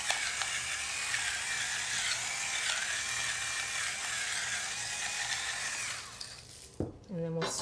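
A pepper grinder cranks pepper onto grilled corn, a steady close ratcheting, gritty grinding that runs for about six seconds before stopping, followed by brief handling noise.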